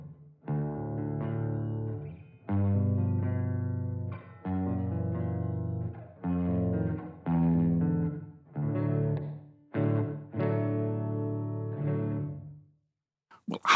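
A guitar played through the Aurora DSP Mr Hector boutique amp simulator with reverb added rings out in a series of sustained chords and phrases, separated by short pauses, with no talking.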